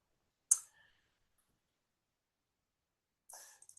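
Two brief, sharp computer mouse clicks in genome analysis software, the first crisp and isolated, the second about three seconds later as a quick cluster of small clicks, both close and clear against near silence.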